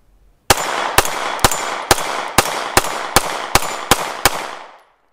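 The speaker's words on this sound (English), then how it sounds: "I can't really shoot the Max 9 very fast, especially not when my hands are this sweaty" A Ruger Max 9 pistol fires ten sharp shots in a quick, even string about half a second apart, loud and close, then stops, with no talk.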